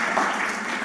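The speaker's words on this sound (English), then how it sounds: "So if we can give her that applause now, I will be grateful." Audience applause in a hall during closing remarks, a dense, steady wash of clapping that holds at an even level through the short moment.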